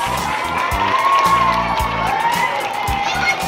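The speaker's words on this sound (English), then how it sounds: "So Lydia, can we give Lydia a big round of applause, please?" Cheering and applause from a crowd of children at an elementary school cook-off, a dense, steady roar of voices and whoops close by, with some talk mixed in.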